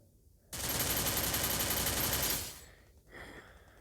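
In the video game Free Fire, a rapid automatic burst of gunfire rattles loudly for about two seconds, then gives way to a quieter, fainter burst.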